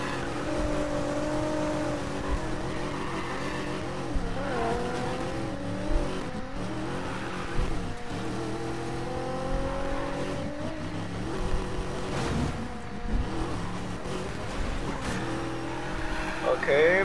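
Race car engine in a racing video game, revving and shifting pitch continuously for the whole stretch, with occasional tire noise and players talking over it.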